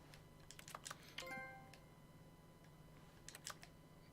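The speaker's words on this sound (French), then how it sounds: "Ça fait un bruit de clavier." Keyboard typing in The Stanley Parable Ultra Deluxe: a few faint, scattered key clicks, a brief ringing electronic chime, then more clicks, over a quiet steady hum.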